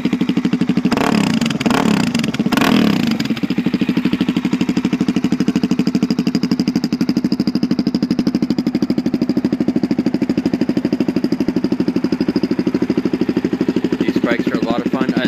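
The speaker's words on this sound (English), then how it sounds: "It has the stock exhaust that's been modified to make it a little bit louder." A 2009 Suzuki DRZ400SM supermoto with a modified, louder stock exhaust idles close by with a fast, steady single-cylinder thump, after a few sharp throttle blips at the start.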